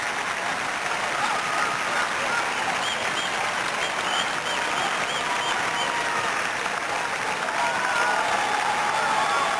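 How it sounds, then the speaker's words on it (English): Steady, dense crowd applause fills the stands after a tennis doubles match between Great Britain and India, with Paes and Bhupathi winning, sustained and even throughout. "So the crowd acclaiming a wonderful performance from Pace and Bukathy."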